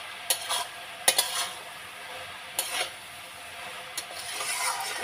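A spatula stirs cauliflower stalk curry (kopir data chorchori) in a pan, giving several separate scraping strokes over a faint background sizzle, close and moderately quiet.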